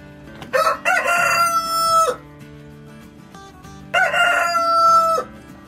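Young roosters from a white rooster and hen cross crow loudly twice in a row, each cock-a-doodle-doo lasting over a second, close by with faint farmyard background between crows.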